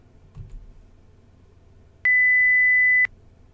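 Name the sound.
high-pitched test tone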